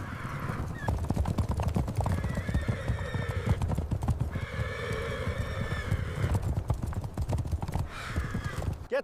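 Wild horses in a herd moving through narrow corral corridors during a harsh winter, with loud, rapid hoof clopping throughout and several whinnies and neighs rising above the hoofbeats, close and continuous.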